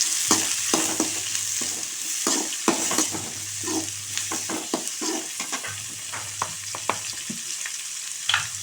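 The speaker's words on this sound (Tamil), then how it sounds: "இது நல்லா வதக்கணும்." Radish, onion and tomato are sautéed in a pan for a kuzhambu. A spoon scrapes and stirs in an irregular rhythm over a constant close sizzle of hot oil.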